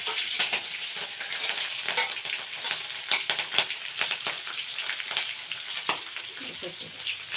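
Dried red chilies and spices frying in hot oil for mango rice, a loud crackling sizzle with sharp spattering bursts and stirring scrapes, close and continuous.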